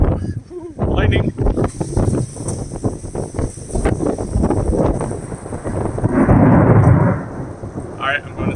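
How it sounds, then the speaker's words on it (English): Close summer thunderstorm with rolling thunder rumbles and steady rain, the downpour swelling loudly near the end, while someone talks excitedly over it. "And a little bit of a storm on our hands here"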